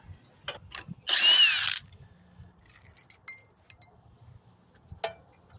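A brief, loud burst of a power tool whirring on a wheel bolt during a front brake job on a 2014–2019 Kia Soul, framed by metallic clinks and tool handling sounds before and after.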